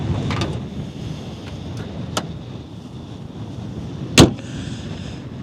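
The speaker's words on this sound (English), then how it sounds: "The sound of all the body panels closing, the hood closing, the door closing, is just extremely solid feeling." Solid door and hood slams on a 2024 Acura Integra A-Spec: two sharp thuds, one faint early and a louder near one later, over steady outdoor wind noise.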